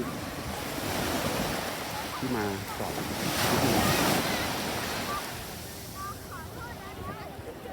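Ocean waves wash ashore near a pier, a broad rolling surge mixed with wind buffeting the microphone, while someone talks over it.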